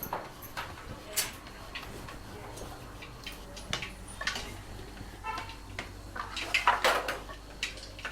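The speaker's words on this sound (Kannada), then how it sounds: "ಸ್ವಲ್ಪ ಸಾಸಿವೆ ಹಾಕಕತ್ತೀನಿ ರೀ ಆಮೇಲೆ ಸ್ವಲ್ಪ ಜೀರಿಗೆ ಹಾಕಕತ್ತೀನಿ ಚಟಾಪಟ ಚಟಾಪಟ ಅಂದರೆ ಸ್ವಲ್ಪ ಚಲೋ ಅನಿಸ್ತೈತಿ" Mustard seeds and cumin crackle in hot oil in a home kitchen, giving faint, scattered pops and ticks that thicken into a brief flurry near the end, with occasional utensil clinks in the background.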